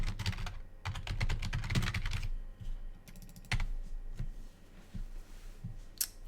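Quick, uneven bursts of clicking keys on a computer keyboard as a note is typed, loud and close at first, then thinning to scattered isolated taps with short pauses between them, no voices.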